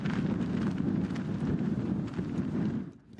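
Strong hurricane-force wind sweeps the open steppe near front-line positions on the Svitlodarsk bulge in Ukraine. A loud, continuous roaring rumble buffets the microphone, then briefly drops away near the end before returning.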